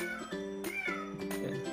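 A cat meows indoors, several short, fairly close calls in quick succession, some rising and drawn out, heard over a quiet room.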